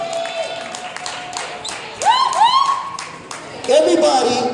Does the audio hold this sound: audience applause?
yes